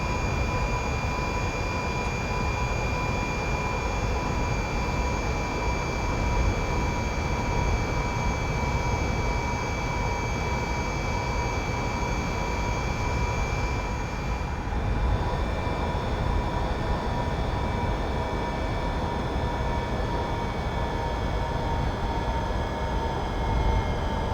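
Sustained whine and roar of an electric semi truck motor under full throttle in American Truck Simulator, steady and loud throughout with layered high tones shifting slightly midway, no voices.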